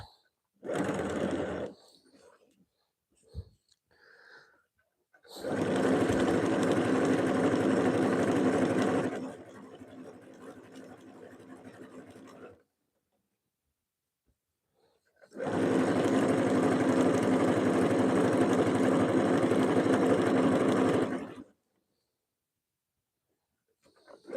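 A sewing machine runs a straight stitch on fabric placed right sides together under the presser foot, in two long steady bursts of several seconds each, separated by quiet pauses with brief handling noises.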